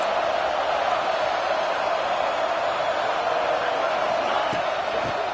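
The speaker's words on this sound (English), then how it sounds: "this home crowd is fired up and ready to make a difference" A home crowd fills a college football stadium in a video game, Oregon at Colorado in a playoff matchup, with a steady, dense roar of cheering holding level throughout and no talk on top.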